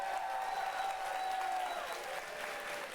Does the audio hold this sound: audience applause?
yes